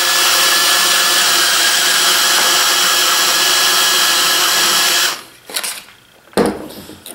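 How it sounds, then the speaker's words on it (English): A lubricated crokinole board spins while its routed wooden edge is lightly sanded, giving a steady, close whirring hiss for about five seconds that then stops, followed by a few scattered knocks and handling noises. "then I can spin it and put a light sand on this routed edge"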